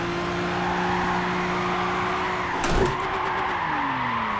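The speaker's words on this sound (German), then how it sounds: "Hier bricht mir der Wagen auch schon aus." A car skids in the video game Gran Turismo 6, a broad burst of tyre noise cutting through a steady engine drone around the middle, then the engine pitch falls away as the car loses grip.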